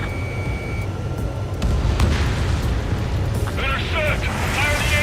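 A missile launches and explodes in Ace Combat 7, a broad roaring rumble that swells and holds under radio chatter from pilots.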